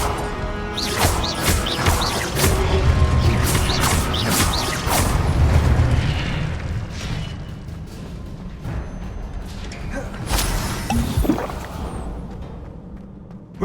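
Incendio fire spell cast in Hogwarts Legacy, a dense roaring blast of crackling flame and crashing impacts that swells loud for several seconds, then thins into scattered bursts and clatter.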